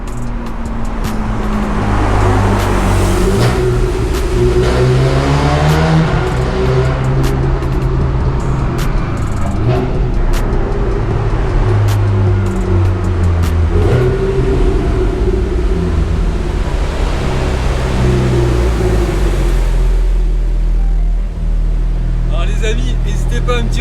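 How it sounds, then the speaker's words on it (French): A Porsche 911 50th Anniversary with a 3.8-litre flat-six revs hard inside a tunnel, heard from outside: loud echoing engine roar with rising and falling sweeps and crackles, plus a voice partway through. "on va vous faire écouter le son dans le tunnel de l'extérieur"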